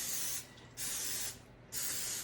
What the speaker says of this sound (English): now I'm going to spray it generously with my spray